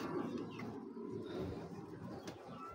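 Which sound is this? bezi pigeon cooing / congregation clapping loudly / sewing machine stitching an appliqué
bezi pigeon cooing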